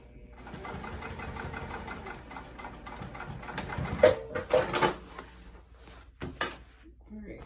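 A sewing machine stitches a wide tote bag with a steady mechanical whir, loud and close, broken by a few sharper clunks midway; a voice talks over part of it.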